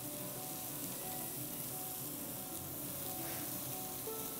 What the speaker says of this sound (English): I love the way that the sesame seeds get nice and toasty in the skillet.